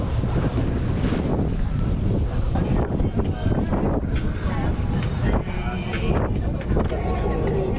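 Strong wind in Lisbon buffets the microphone in a constant loud roar, with gusty rumbling throughout and faint voices partly buried beneath it.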